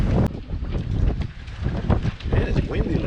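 Strong gusts of wind on the water beside a Luhrs 28 boat buffet the microphone with a loud, rumbling roar that swells and dips continuously.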